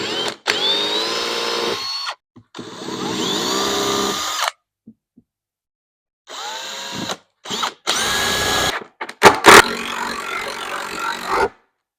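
A power drill drives screws into a wall to mount a floating shelf, with several loud, close whirring bursts of a few seconds each, separated by short pauses and ending in quick stop-start pulses.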